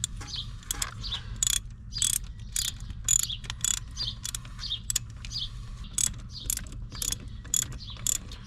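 Ratchet wrench tightening bolts on a 7.3 Powerstroke diesel engine, a series of quick clicking bursts repeating in an irregular rhythm, close and fairly crisp over a low background hum.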